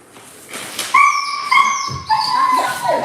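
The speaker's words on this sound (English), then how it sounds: "Why is he aggravating them dogs" Dogs yipping, whimpering and barking in a rising, whining series of high-pitched calls, fairly close and loud, with a voice shouting in the background at the start.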